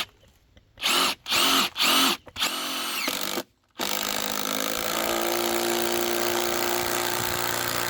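Power drill driving a bolt into a wooden ledger board, three short loud whirring bursts, a longer spin, a pause, then continuous buzzing as the bolt draws the board tight.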